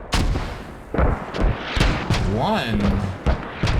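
Mortar fire in the video game Squad, repeated heavy thumping impacts and booms in quick succession, mixed under a commentator talking excitedly.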